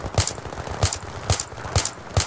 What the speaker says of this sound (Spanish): tampoco tenía pensado parar de disparar, la verdad